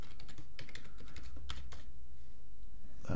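Someone types a password on a computer keyboard, with quick light key clicks in bursts that taper off and a louder tap at the end, quiet and close.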